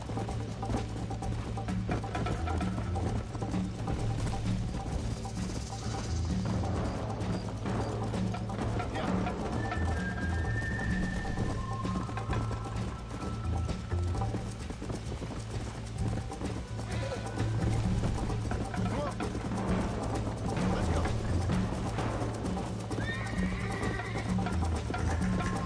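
Horse hooves clip-clopping in the open-world video game Red Dead Redemption, a constant dense mix of galloping beats with faint bird and animal calls over a steady background bed, no clear speech.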